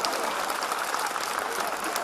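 An audience at a Hindi comedy poetry show claps, a dense, steady burst of applause that fills the whole moment.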